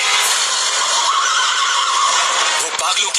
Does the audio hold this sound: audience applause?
no